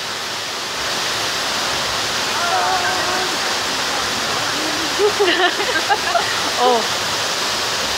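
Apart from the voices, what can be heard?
waterfall at Tai Tam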